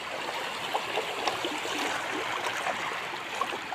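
Waterfall and stream, a steady broadband rush of flowing water with slight splashy texture, moderately close and continuous, with no voices.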